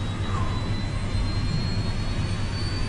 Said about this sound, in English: Captain Soley is taking the steps to fire up the second engine